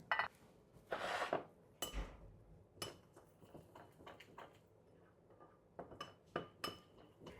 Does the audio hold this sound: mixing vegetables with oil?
yes